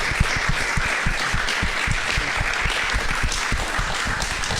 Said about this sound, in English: a round of applause for Nikos and Yaron